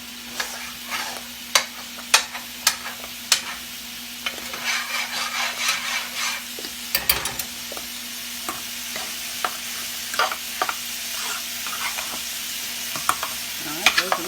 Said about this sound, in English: And we're going to get those nice and hot and saute them a little bit for all the people that want mushrooms.